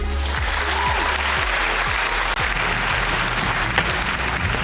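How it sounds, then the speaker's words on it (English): Steady applause from a live audience in Scottsdale, Arizona, a dense sustained wash of clapping with a few sharper individual claps, fairly close and continuous throughout. "I love that applause."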